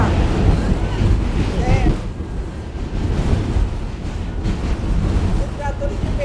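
A New York City subway train rumbles loudly and continuously, producing dense broadband roar and wind-like buffeting, with a person speaking briefly over it.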